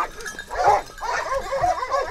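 Hunting dogs barking and whimpering while holding a wild boar at bay during a montería in El Almendro, Huelva; several close, excited yelps and barks overlap in a continuous noisy scuffle.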